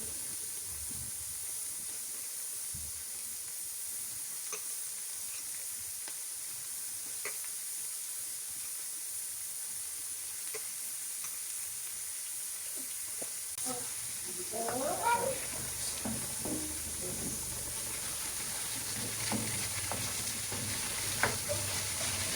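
Liver is added to a hot pan for a liver fry, bringing a steady close sizzle that turns into louder crackling and popping partway through, with a voice heard briefly.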